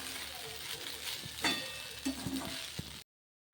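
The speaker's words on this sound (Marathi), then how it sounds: "चवीनुसार मीठ, कोथिंबीर 2 मिनिट छान परतून घेऊयात।" Kande pohe sautéed in a pan with salt and coriander, giving a soft steady sizzle with a few stirring scrapes and clinks, close and fairly quiet, before it cuts to silence.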